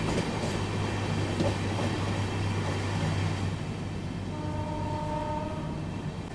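Patna Kota Express rolling through Bhita railway station, a steady loud rumble of train and wheels throughout, with a horn-like tone appearing near the end.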